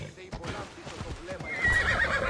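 A horse whinnies loudly and close in the video game Assassin's Creed Odyssey, with hoof clops and mixed background sound.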